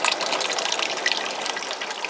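Water gushes steadily into a large brew pot filled past the 10-gallon line for home beer brewing, a continuous close hiss and splash with no pauses.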